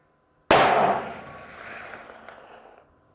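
A single loud, sharp report from a CVA Endura Pro muzzleloader rifle fired at long range, followed by a rolling echo that fades over a few seconds, heard outdoors with no talk.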